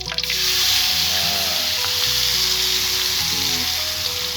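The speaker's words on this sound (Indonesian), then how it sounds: "Oke, kita masukkan bumbu yang sudah dihaluskan. Oke, panas nih." Ground spice paste for a beef kikil dish hits a hot pan and sizzles loudly and steadily, with faint stirring scrapes throughout.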